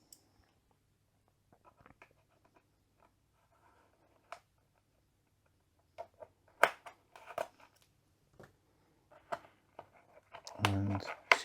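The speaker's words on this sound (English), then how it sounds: "scissors again." A few sharp snips and crinkly rustles of packaging being cut, close up, with scattered clicks and a brief burst of handling noise at the end.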